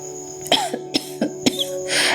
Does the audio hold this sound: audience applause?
no